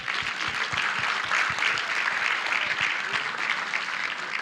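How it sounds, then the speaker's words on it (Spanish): A church congregation claps for the wives during a sermon, steady dense applause filling the room, fairly loud and continuous with no talk over it. "Un aplauso a las esposas."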